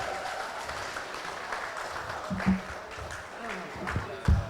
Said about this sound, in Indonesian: Tepuk tangan dulu Bapak Ibu sekalian